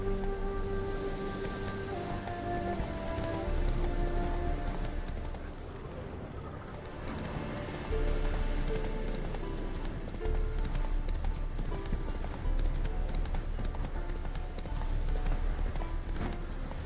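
A horse gallops in The Witcher 3: Wild Hunt, its rapid, even hoofbeats pounding continuously and close over a low rumbling ground noise.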